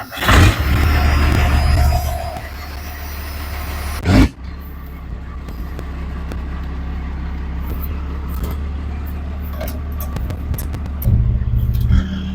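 An old Dodge truck engine turns over and catches, settling into a steady, loud low rumbling idle, then briefly revving near the end. No one speaks.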